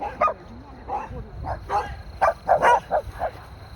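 Dogs outdoors bark and yip in a ragged series of sharp, mid-distance barks, several in quick succession toward the end, with faint background noise and little talking.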